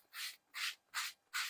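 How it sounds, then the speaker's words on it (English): A cloth wipes paste off a stencil screen in four even back-and-forth strokes, a close, dry scrubbing hiss with short pauses between each pass. "rub off that top layer of paste"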